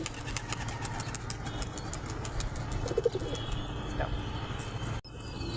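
Pet pigeons coo softly in a loft alongside other small bird chirps, over a steady low engine-like drone nearby, with a brief flutter of movement near the end; no clear flapping bursts stand out.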